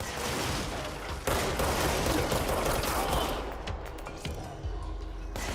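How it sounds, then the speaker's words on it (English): Gunfire in the game Control, a dense, loud clatter of rapid shots and impacts running nearly continuously, with a sharp burst partway through and a slightly quieter tail at the end. "Who is shooting?"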